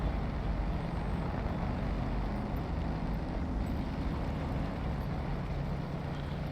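A 2021 Toyota Tacoma TRD Pro on studded tires grinding through mud and ice in the SnowRunner video game, a dense, steady low engine rumble with continuous churning, loud and close, no talking.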